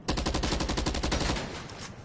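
Rapid automatic gunfire in a video game shootout at the Maze Bank, a fast burst of loud, evenly spaced shots that stops and trails off into echo.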